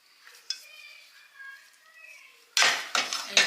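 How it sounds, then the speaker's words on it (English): Puppy chow mixture stirred with a wooden spoon in a pan, with a couple of close, loud scraping strokes arriving after a quieter stretch of soft tones. "make sure you stir the whole thing around so you don't burn any of it"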